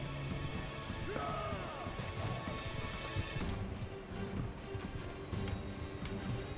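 Galloping horse hooves in the medieval battle game Mount & Blade II Bannerlord, a busy patter of clops under battlefield clatter and a brief whinny, steady and moderately loud throughout.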